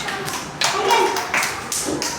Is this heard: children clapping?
yes